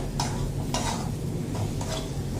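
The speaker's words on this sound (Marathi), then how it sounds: "हे मस्त 2 ते 5 मिनिटांसाठी परतून घ्यायचं" Lavangi green chilies are sautéed in a little oil with salt for thecha, a close steady sizzle with several scraping stir strokes in a short rhythmic run, no talking.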